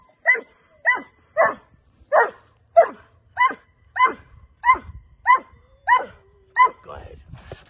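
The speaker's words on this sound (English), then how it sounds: "So I get eye contact on the barking." Puppy barking during a training session, about a dozen sharp, evenly spaced barks at steady intervals, close and clear, with faint background noise toward the end.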